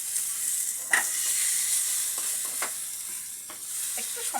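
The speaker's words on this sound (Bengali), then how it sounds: "একদম ফ্লেমটা কমিয়ে দিয়ে সুন্দর করে এটাকে ভেজে" Bora fritters fry gently in a little oil over a low flame, giving a soft, steady sizzle with a few light pops and scrapes and no voices.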